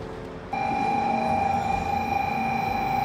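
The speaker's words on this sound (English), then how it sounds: "We took the bullet train to Hiroshima" A steady high-speed bullet train hum in Japan with sustained tonal whine, rising abruptly after a quiet start and holding at a constant loud level.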